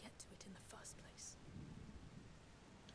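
Steady rain with a low thunder rumble in a stormy scene from the video game A Plague Tale Requiem, a continuous wash of moderate loudness with no talk over it.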